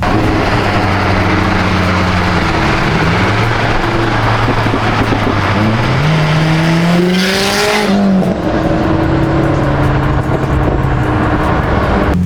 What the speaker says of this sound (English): My first time ever taking any of my cars in the snow, yet alone beating on it and doing some donuts.